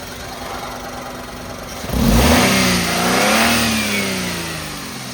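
A 998 cc petrol engine in a 2014 Maruti Suzuki Wagon R VXI revs up sharply from a low idle hum, holds a strong rising and falling rev, then settles back, close and loud with no talk.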